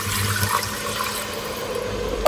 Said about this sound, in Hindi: अब मैंने पानी माप के रखा हुआ चावलों के हिसाब से, वो डाल देते हैं